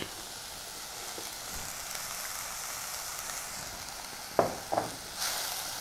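Mixed Tamil greens (arai keerai, vallarai keerai and fenugreek leaves) sizzle steadily in a pan for keerai rasam, a soft continuous frying hiss broken near the end by a few sharp stirring clinks.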